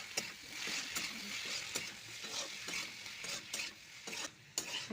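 Chopped vegetables frying with salt and chilli in a pan for veg noodles, a steady close sizzle with frequent scraping stirs of a spatula against the pan.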